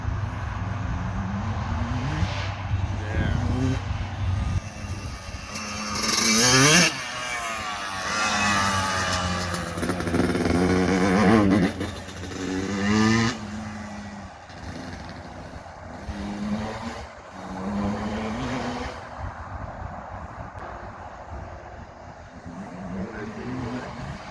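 A Yamaha YZ125 two-stroke dirt bike, rebuilt top and bottom end, is ridden past, its engine rising and falling through high-pitched revving runs that grow louder and fade as it moves, with no talking.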